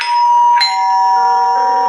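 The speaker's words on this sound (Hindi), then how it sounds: "एक आदमी ने एक घर की घंटी बजाई" A loud electronic doorbell chime, two bright ringing tones with the second struck mid-clip and left to ring out, heard alone.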